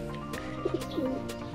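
Soft, low pigeon coos, a few short warbling calls close by in a quiet setting.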